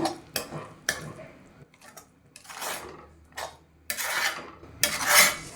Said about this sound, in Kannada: ಇದೆಲ್ಲ ನೀಟಾಗಿ ನಾವು ಮಿಕ್ಸ್ ಮಾಡ್ಕೋಬೇಕು